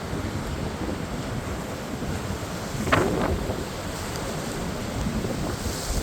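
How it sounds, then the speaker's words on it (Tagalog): Strong wind roars steadily across the microphone atop a rock above a beach, a dense, rushing buffet with the wash of surf mixed in and no voices. "Woo, malakas ang hangin."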